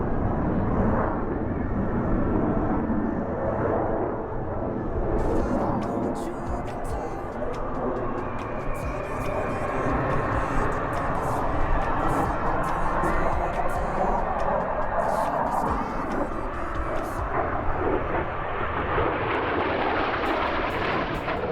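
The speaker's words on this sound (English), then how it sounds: "Ladies and gentlemen, the Blue Angels barrel break." Blue Angels jets fly a barrel break at a Fleet Week airshow, a loud, sustained roar of jet engines that swells and shifts as the aircraft split apart, with crowd and bursts of nearby clicking under it.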